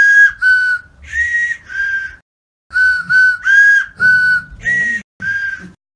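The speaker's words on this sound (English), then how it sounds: "the man who can whistle happy birthday through a carrot" A man whistles "Happy Birthday" through a carrot, each phrase a clear, piercing, breathy tone with short gaps between notes, performed close and alone.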